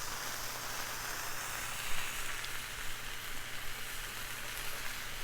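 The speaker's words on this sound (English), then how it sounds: "So I'm just putting it on the hot griddle, and then I'm just taking the butter." Half a stick of butter melting on a hot Blackstone griddle, giving a faint, steady sizzle and hiss with a few soft pops, quiet and unbroken throughout.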